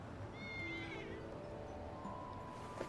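A cat meows a few times in the video game Lost Judgment, its rising and falling calls sitting close over a steady hum of game ambience.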